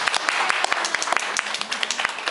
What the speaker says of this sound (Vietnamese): Để chúng ta vỗ tay để cảm ơn mục sư.